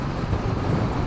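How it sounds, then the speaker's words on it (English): A motorcycle passes on a road, heard as a steady, close engine rumble blended with broad traffic-like noise, with no talking. "Just a motorcycle."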